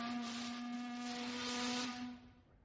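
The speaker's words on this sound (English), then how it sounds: "The steamer whistle screeched" A steamer's steam whistle screeches as one sustained, strongly harmonic blast over a hiss, holding steady before fading out near the end, with no talk over it.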